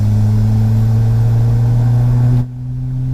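Ford Fiesta RS Turbo with a 240 bhp Cosworth turbo engine, a loud steady droning engine note close by that drops off abruptly near the end as the revs fall.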